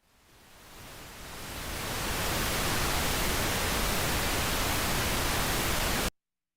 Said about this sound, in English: We're going to change our signal generator here from a sine wave to pink noise